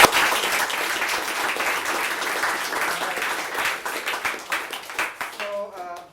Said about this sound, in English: So I want to again applaud you guys